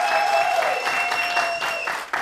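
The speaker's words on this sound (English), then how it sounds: "Clap for yourself" Audience applause at a live show as a guest trainer is welcomed, a steady burst of clapping with a faint tonal ring running through it.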